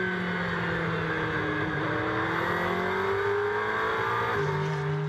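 A McLaren GT race car at the Algarve circuit accelerates hard, its engine note climbing steadily through the gears, loud and continuous with no talk over it.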